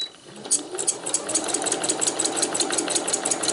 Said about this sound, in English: I'm going to carry on sewing